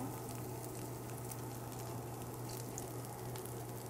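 Zucchini cakes fry on a hot griddle with a steady, even sizzle and crackle that holds at moderate level for the whole stretch, with no voices over it.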